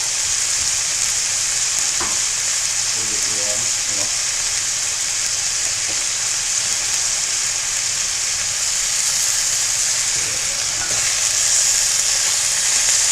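Beef and pork browning in a frying pan for loco moco give a steady, broad sizzle that fills the whole stretch, with a few faint clinks and knocks from stirring partway through.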